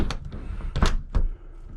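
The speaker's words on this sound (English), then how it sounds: "Lock the door." A door being shut and locked, with a few sharp knocks and thunks spaced across the clip, close and moderately loud.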